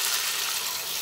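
Water is poured into a pan of potol-peel bora curry after the spices are fried, giving a steady, close rushing splash that lasts the whole second.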